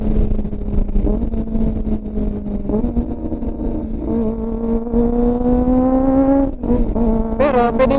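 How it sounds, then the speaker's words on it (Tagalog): Motorcycle engine with quick shifter and auto-blipper drops through gears, each shift marked by a sharp rev blip and pitch change, loud and close, a final burst of revs near the end. "Ang kagandahan dito ay ang kanyang quick shifter at auto blip."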